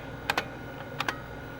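Keys clack on an IBM Portable computer keyboard, two quick pairs of crisp strokes close up over a faint background hum, with no talking.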